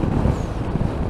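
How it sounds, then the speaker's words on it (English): A steady rush of wind gusting off an airfield buffets the microphone, a low, roaring blast that swells briefly and stays close and loud. "that was a gust coming off the airfield"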